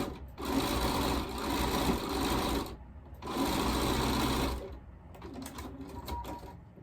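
A sewing machine stitching a quilt patch runs in two long, steady bursts with a short pause between, followed by quieter, stop-start stitching.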